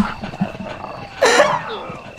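In the Resident Evil game, zombie dogs snarl and yelp. A louder growling burst in the middle stands out over the game's background noise.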